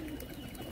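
Large pigeons at a sale at Jammu University give a brief, low, throaty coo, soft and steady, with no talk over it.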